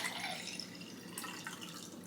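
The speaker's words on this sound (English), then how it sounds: "All right, I got my 12 ounces of water." Water runs steadily into a measuring cup up to the 12-ounce mark while tofu yogurt is prepared, a soft continuous trickle with a few faint drips and no speech.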